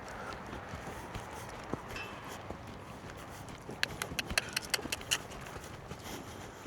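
A ridden horse's hooves clip-clop at a walk, faint and somewhat distant, with a brief run of sharper, closer hoof strikes near the end.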